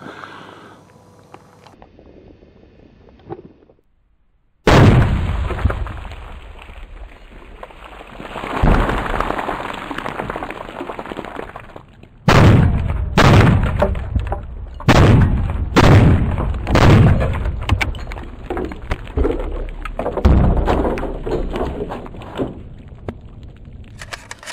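A Bushmaster ORC AR-10 .308 rifle fires outdoors. After a quiet start comes a loud blast with a long echoing rumble, then a run of about eight sharp, booming shots, each trailed by noisy reverberation.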